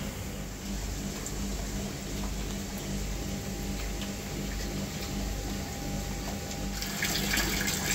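Fresh water runs steadily into a koi IBC tank, a continuous broadband splashing wash that stays even throughout and brightens slightly near the end, with no talk.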